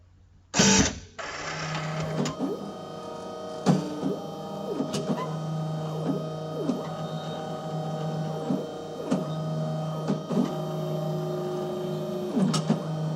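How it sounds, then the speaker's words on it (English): A Brady industrial label printer whirs steadily with a sharp mechanical clunk near the start, then repeated clicks and small motor pulses as it feeds and cuts labels. "the printer has now printed the labels and has dragged the labels back in and is now cutting"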